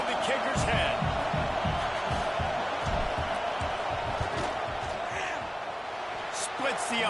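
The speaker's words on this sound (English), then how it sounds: "This crowd trying to do its part to get inside the kicker's head." Stadium crowd roaring and jeering during a field goal attempt in EA NCAA College Football 26, a loud, sustained wall of noise with rhythmic chanting and a commentator talking over it.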